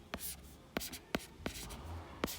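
Pen strokes on paper while writing out a math proof, several quick scratchy taps and short scribbles in an irregular rhythm, close and quiet.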